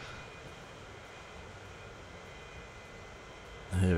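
Airliner jet engines run at a steady roar in the Transport Fever video game, a constant, loud broadband drone that ends in a sudden louder burst with no voices heard.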